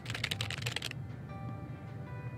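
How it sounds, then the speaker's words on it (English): Fast, forceful typing clatters on a computer keyboard in the video game Lake, a dense burst of keystrokes for about a second before fading into quiet background music. "Angry typing."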